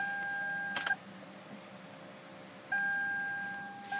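A key goes into the ignition of a 2006 Lexus RX 330, making a quick faint click, followed by a steady electronic chime tone that pauses and then resumes.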